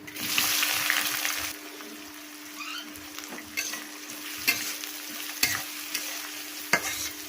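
Chopped onions frying with whole cardamom, cloves, cinnamon and black peppercorns, a steady sizzle with a spoon scraping and stirring the pan in repeated knocks.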